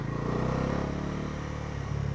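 Bajaj Pulsar NS400Z motorcycle riding straight at steady speed, a continuous low engine drone and road rumble running alone without a break.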